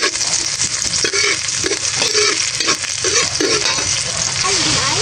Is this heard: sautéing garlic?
yes